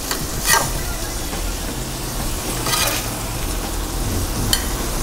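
A beef burger patty sizzles steadily in a pan, with a few short scraping and clattering bursts as it is flipped, close and fairly loud, without talk.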